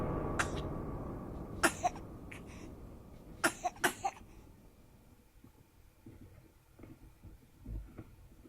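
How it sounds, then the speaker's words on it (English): A woman in a video game gives a few sharp coughs in quick succession, choking, followed by quieter scattered sounds and a faint low thump near the end. "She started coughing and choking."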